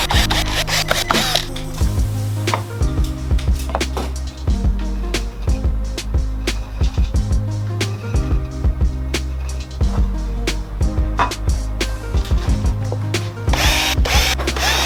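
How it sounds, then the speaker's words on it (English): A power drill whirs in repeated bursts, starting and stopping as it bores holes for car speaker installation, with clicks and tool handling between runs, loud and close. "That way I can drill my holes through in the exact spot."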